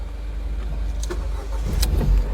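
A Ford Fiesta with a battery-draining fault is started with the key, giving a few clicks over a steady low engine rumble that swells slightly toward the end.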